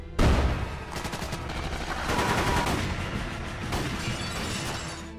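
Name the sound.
gunfight between police and masked family in film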